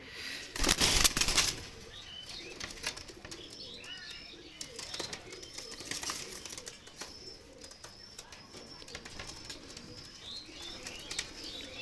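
A pair of Pakistani high flyer pigeons startle with a loud burst of wing flapping at the start, followed by soft coos, chirps and restless rustling close by.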